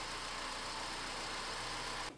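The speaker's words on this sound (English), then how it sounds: "we can start the car and let it idle for 5 to 10 minutes" An Opel Corsa C engine idles at a constant low rumble, unbroken and close, with no other sounds.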